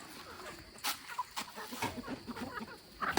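Faint, soft clucking from a chicken, in short uneven bursts over low background noise.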